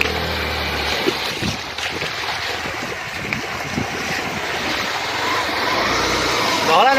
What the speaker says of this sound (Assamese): এইখন মোৰ বাইকখন নদীৰ পানীত নমাই দিছোঁ